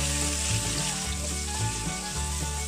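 Pork stir-frying in a pan with garlic for a Thai stir-fried banana pepper dish, giving a loud, steady sizzle with broad crackling that stays continuous, with no voices.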